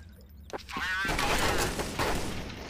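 Rapid gunfire bursts from the video game Counter-Strike Source, loud and close, with a sharp shot near the start and then a dense crackling volley, while players talk over it.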